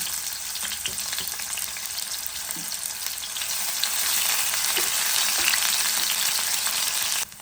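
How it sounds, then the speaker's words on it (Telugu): Onion frying with cumin seeds in a pan, a steady dense sizzle that grows slightly louder midway, close and continuous with no talk, ending in a sudden drop. "అది వేగేటప్పుడు మనం ఒక ఆనియన్ ఇందులో వేసి ఫ్రై చేసుకోవాలి."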